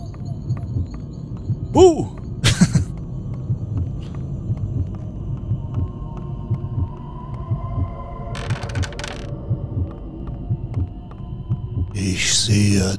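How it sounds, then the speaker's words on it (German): Throbbing heartbeat effect in the Gothic horror mod Dolina Zombie, a low steady pulse running under ambient game hum, with a few brief louder game sounds cutting in. "Da war gerade der Herzschlag."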